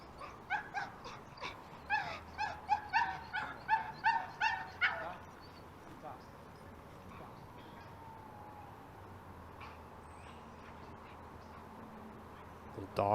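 Small dog at a disc golf event, a quick string of about a dozen sharp yapping barks close by, then quieter ambience with light bird sounds and some talk.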